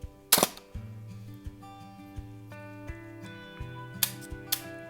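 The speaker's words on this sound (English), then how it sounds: "So let's flip up that mirror like I said. The first shot without any filters at all." A film SLR camera's mirror flips up with a sharp mechanical clack, followed later by a pair of crisp shutter clicks, all close and isolated against a quiet background with faint tonal hum.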